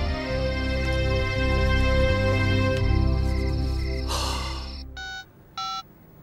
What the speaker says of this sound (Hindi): गुप्ता जी का फोन था